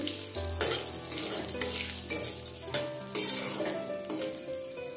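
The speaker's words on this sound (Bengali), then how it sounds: "ফোড়নটা ভালো করে ভেজে নেব" Whole spices sizzle in hot oil for a mutton curry tempering: small cardamom, cloves, cinnamon sticks and bay leaves, a close crackling fry with scraping stirs and clinks, moderately loud.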